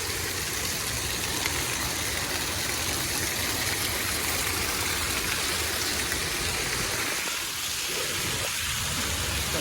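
Rain pouring down in a residential lane, a dense, continuous hiss of drops on the surfaces close by, alone and without pause.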